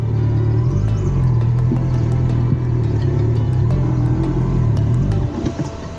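Motorcycle engine riding along a slippery, muddy village road in Kenya, a steady close mid-pitched rumble with small throttle surges, continuous throughout and easing slightly at the end.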